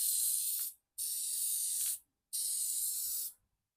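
Three steady hissing bursts of an aerosol spray coating can on car headlights, each about a second long, separated by short silent pauses, close and fairly loud.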